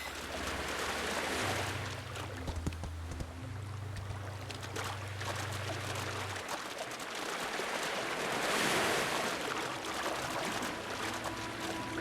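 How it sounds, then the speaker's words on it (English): Steady ocean waves wash along the coast in the video game Equinox Homecoming, a broad continuous surging hiss with low rumbling swells and no voices. "Although you can hear the waves here"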